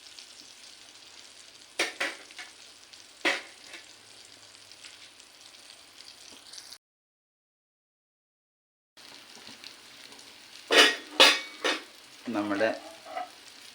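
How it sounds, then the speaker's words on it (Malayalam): African-style fish fries in a pan over a low flame with a gentle, close sizzle, punctuated by spatula scrapes and clacks, a short silent gap, and one brief spoken word. "മത്സ്യം ഇവിടെ ഫ്രൈ ആയി വന്നിട്ടുണ്ട്."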